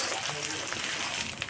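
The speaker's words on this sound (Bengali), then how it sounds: "আদাটাকে কিছুক্ষণের জন্য ভেজে নেব যেন কাঁচা ভাবটা চলে যায়" Ginger paste fries in oil with onion and garlic for a Bengali mutton curry, giving a constant close hiss and crackle of sizzling with no pauses.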